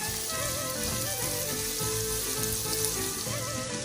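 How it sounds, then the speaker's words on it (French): Onions frying in hot oil for a chakchouka: a loud, dense, continuous sizzle close up, crackling evenly for the whole stretch with no voices. "l'huile est chaude, il est temps d'y verser les oignons"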